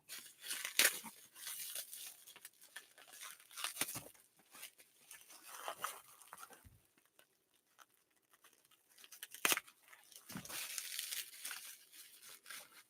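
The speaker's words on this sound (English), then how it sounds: "This is some hardcore bubble wrap." Crinkly bubble wrap rustles and crackles in intermittent bursts as it is unwrapped, close and fairly quiet, with short pauses between handlings.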